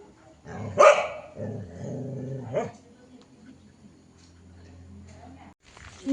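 A dog gives a single sharp bark near the start, followed by softer whimpering sounds, with a person speaking nearby.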